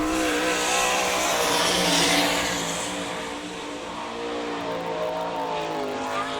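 Sprint car number 22 runs a qualifying lap at an All Star Circuit of Champions race in Sarver, Pennsylvania, its engine screaming loud and close, rising to a peak before fading as it moves away, then coming back in a steadier drone.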